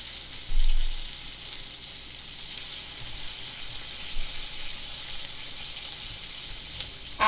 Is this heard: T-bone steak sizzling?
yes